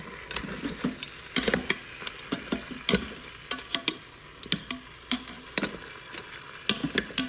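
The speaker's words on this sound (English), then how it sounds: "And I'm just going to give it a good little stir" Ingredients for Haitian bouillon being stirred in an Instant Pot, with irregular scraping and clicking strokes of a spoon against the inner pot over a soft sizzle, close up and fairly busy throughout, with no talking.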